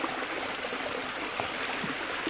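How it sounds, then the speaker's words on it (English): A fresh waterfall in the wild gives a steady, broad rush of flowing water. The sound is even and continuous, at moderate distance and fairly quiet, with no voices. "that nice fresh waterfall there"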